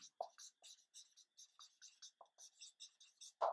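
Chalk or marker writing on a board during a chemistry lecture on molecular structure, a quick run of short scratchy strokes and taps in steady rhythm, close and fairly faint, with no voices.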